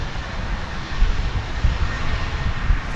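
Jet airplanes passing over at DFW Airport, a steady, loud broadband engine roar with low rumble that holds throughout, with no talk.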